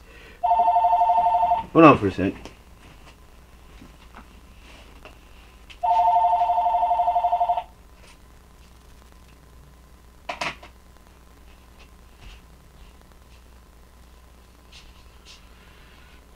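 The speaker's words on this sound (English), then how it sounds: "Sorry, that was my phone going off" A phone rings with two bursts of a trilling electronic ringtone a few seconds apart, fairly close in a quiet room, with a short spoken remark between them.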